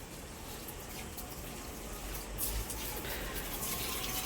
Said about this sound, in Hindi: रोजाना सुबह शाम देखो दोनों टाइम पौधों में पानी दिया जाता है